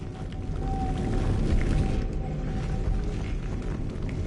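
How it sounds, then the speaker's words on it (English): A spinning mechanism grinding as it raises a platform in Hogwarts Legacy, a low, heavy rumbling churn with creaks, steady and fairly loud, plus a brief tonal whine early on. "Making this spin ought to raise that platform."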